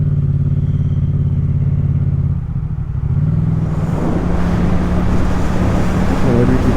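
A car drives past on a road, a broad whooshing roar that swells over a steady engine drone, heard loudly against wind noise.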